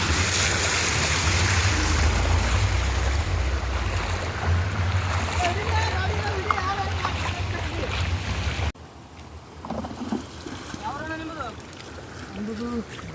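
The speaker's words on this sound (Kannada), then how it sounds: "ನೀರು ಹ್ಯಾಂಗೆ ಬರೋದು." Rushing water in a village after heavy rain, a steady loud wash that drops suddenly quieter partway through, with people talking over it.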